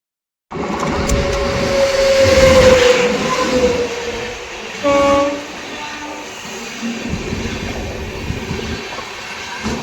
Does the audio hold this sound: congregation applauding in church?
no